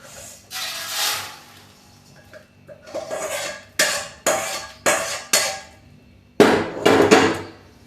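Roasted mung dal and rice are emptied from a pan into a plate for halwa, giving a series of irregular metallic scrapes, clanks and rattling bursts close by.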